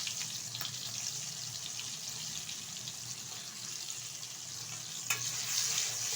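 Tomato pieces and spices frying in a pan for a chilli chicken dish, with a steady, moderately quiet sizzle and occasional scraping stirs, one sharper clack near the end.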